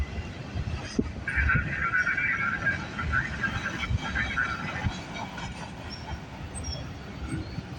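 A CN freight train rolls past the Bronte Street crossing in Milton, Ontario, a steady close rumble of wheels on rail with a brief wheel squeal early on, continuous throughout.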